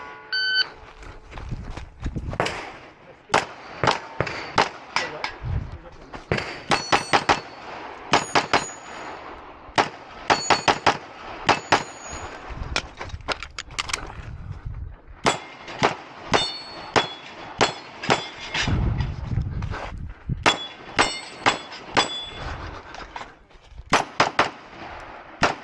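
Rapid pistol shots from a P320 ring off steel targets at an outdoor action pistol match, a fast irregular string of sharp cracks with metallic clangs, some shots in quick bursts and brief pauses between.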